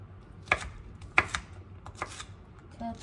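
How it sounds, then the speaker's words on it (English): A knife cuts onions on a cutting board in a home kitchen, giving a handful of sharp, irregular knocks close by with quiet gaps between them. "now I'm just gonna cut the onions"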